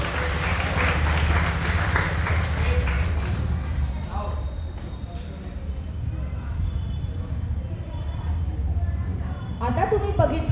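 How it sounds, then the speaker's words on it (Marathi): Applause for judo players at a training camp in Shivaji Park, Dadar, a steady dense patter of clapping that thins out, with voices talking over it. "आणि या ताईदारांसाठी टाळ्या वाजवते."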